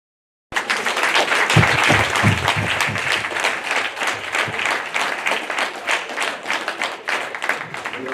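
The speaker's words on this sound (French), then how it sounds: "Applaudissements" A large audience at a Cotonou gathering bursts into loud, sustained applause after a moment of silence, dense clapping continuing steadily with some voices mixed in.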